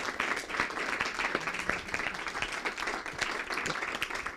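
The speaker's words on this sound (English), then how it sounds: "I'm going to ask for a round of applause for these two" A gathered audience applauds steadily for several seconds, a thick, even wash of many hands clapping together without a break.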